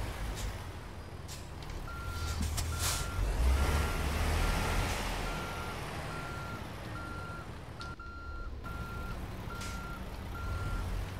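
In a truck-driving video game, a semi backs up a trailer while a steady, evenly spaced reversing beep repeats over the constant low rumble of the engine.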